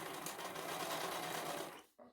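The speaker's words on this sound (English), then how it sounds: "After running this under the sewing machine a couple of times until you have it nice and sturdy" A sewing machine stitches the two ends of a ribbon together, a steady close whirring run of needle strokes that stops abruptly near the end with a brief restart.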